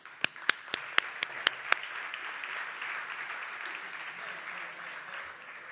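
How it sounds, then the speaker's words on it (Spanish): Applause from an audience filling a conference hall, opening with a few sharp, distinct claps that swell into steady, dense clapping for several seconds before slowly thinning out. "Un aplauso enorme"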